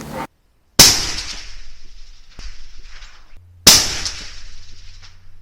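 Two sharp, loud rifle shots from a Benelli Lupo ring out at an outdoor target range several seconds apart, each followed by a ringing echo that fades away.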